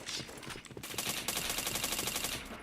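Rapid video-game gunfire, dense bursts of automatic shots crackling close and loud over about three seconds, with no talk over it.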